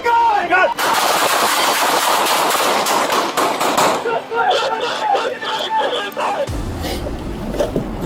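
Loud gunshots ring out in rapid bursts during a police confrontation with an armed man. Officers shout over and between the shots.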